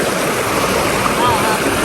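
Fast-flowing river water rushing loudly and steadily close by, a dense, unbroken roar for a brief moment.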